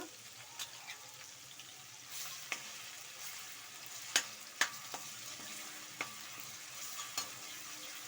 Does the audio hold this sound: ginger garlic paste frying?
yes